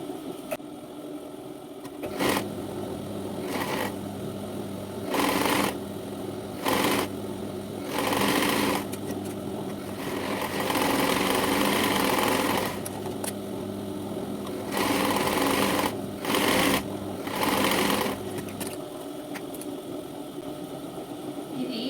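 Sewing machine running in repeated bursts while stitching a princess-cut blouse with a boat neck back design, close and fairly loud, with steady motor hum between short pauses and no talk.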